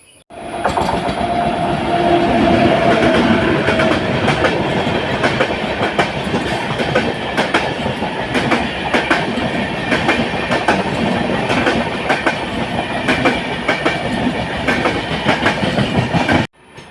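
A train runs at Nellayi railway station in Kerala, a loud steady rattle of wheels with repeated clickety-clack beats over the rails throughout, close by and alone.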